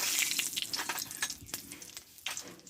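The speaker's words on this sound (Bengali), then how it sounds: "এবার এতে দেবো একটা শুকনো লঙ্কা" A dried red chilli crackles and sizzles in hot oil in a pan, a close, bright hiss with short spitting pops and stirring scrapes, no one talking.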